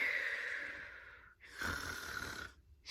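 Pretend snoring made by a voice imitating sleep at a children's bedtime storytime, two long raspy snore-like breaths in a row with a brief pause between, fairly close, no talking over them.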